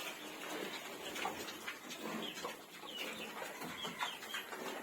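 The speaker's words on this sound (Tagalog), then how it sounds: "ito yung manok" Chickens cluck softly in short, scattered bursts, fairly faint and a bit distant against a low background, on a small farm where pigs are fed bananas.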